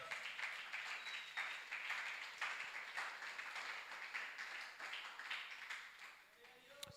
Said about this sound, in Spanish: Alábale con fuertes palmas al Rey.